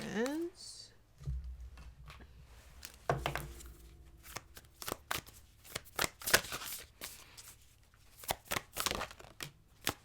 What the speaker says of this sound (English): Let's go ahead and just pull some more cards.